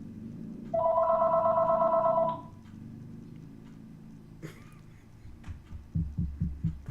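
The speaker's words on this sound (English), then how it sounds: "if somebody tries to call us, it rings" An old-style telephone bell rings loudly in a single sustained burst lasting about a second and a half, then cuts off, leaving quiet room tone with a few knocks and thumps afterward.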